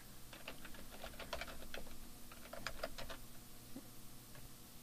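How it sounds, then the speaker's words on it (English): Rapid clicking of fingers on a computer keyboard, keys tapped in quick irregular bursts close up and fairly quiet over a steady background hum, with no talking. "and I'll type ingredients"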